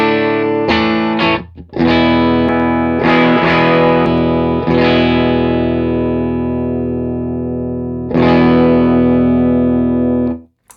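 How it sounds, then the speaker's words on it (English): Electric guitar played through a Muir Audio Morphtone EQ pedal with the tone turned down and depth raised, giving a darker, thinner sound. Loud strummed chords and picked notes ring and sustain alone, with a fresh attack near the end. "So I'm going to turn the tone down and nudge the depth up a little bit. So that should darken and thin the guitar slightly."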